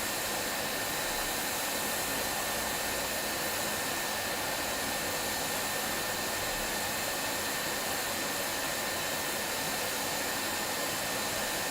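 A heat gun blows a steady, loud hiss of hot air onto solder balls under a chip during a board repair, unbroken and alone throughout.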